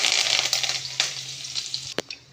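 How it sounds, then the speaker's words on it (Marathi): Mustard seeds, cumin and curry leaves crackle in hot oil in a kadhai: a brief, close burst of spitting sizzle that quickly thins, broken by a sharp utensil tap near the end. "मोहरी तडतडली की कढीपत्ता,"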